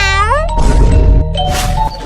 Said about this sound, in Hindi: अरे बेटा बिल्ली है, डरो मत।